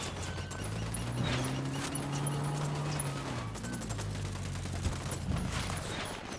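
Scattered gunfire in a firefight in the open-world shooter Ghost Recon Wildlands crackles at a distance over a low, droning backdrop of engine-like hum and game ambience, with a few sharper shots near the end.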